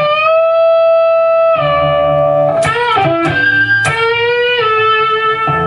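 A distorted electric guitar plays a riff beginning on the sixth string, with sustained, buzzy notes, slides and quick changes of pitch, loud and close with no talking.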